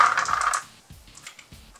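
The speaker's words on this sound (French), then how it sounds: "Donc je lance 7 dés." A brief clatter of seven dice tumbling onto a surface during a Mythic Battles: Pantheon board game, followed by a couple of faint taps as they settle.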